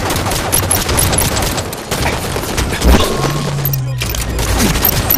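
Sniper rifle fire in the Halo 5 Guardians multiplayer beta, dense game gunfire and booms crackling throughout with a heavier blast near the middle, loud and continuous.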